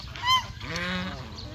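Geese honk in a nasal, repeated series, fairly close, with a couple of overlapping calls over a low rumbling background.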